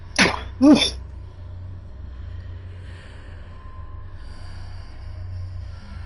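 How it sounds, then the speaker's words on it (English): Two sharp, close coughs from a sick person come in quick succession at the start, followed by quiet background hum. "Sorry about my coughing."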